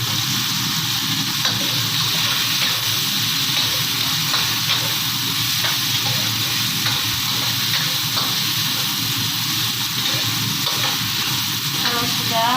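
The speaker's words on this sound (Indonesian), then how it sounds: "Oseng sampai berubah warna. Lalu masukkan bawang putih." Garlic stir-frying in a pan, likely alongside other ingredients, with a steady loud sizzle and rhythmic scraping strokes of a utensil throughout, close and continuous with no talk.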